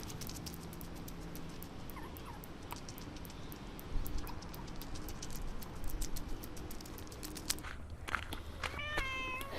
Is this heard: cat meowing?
yes